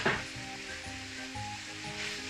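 Beef frying in olive oil in a pan gives a steady close sizzle, with fat crackling throughout the short stretch and faint tonal background music underneath.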